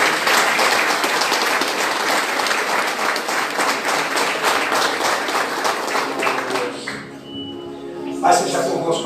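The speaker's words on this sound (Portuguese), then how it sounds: "E as palmas são para Jesus." Church congregation clapping together during a worship service, loud rhythmic massed applause for several seconds that thins out near the end as a voice begins speaking.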